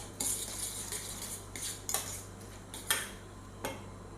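Eggs with salt and pepper mixed in a bowl with a utensil, a handful of light clinks and taps at irregular intervals over a faint steady hum, close and fairly quiet.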